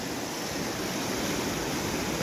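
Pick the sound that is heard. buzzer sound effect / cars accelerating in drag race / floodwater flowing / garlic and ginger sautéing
floodwater flowing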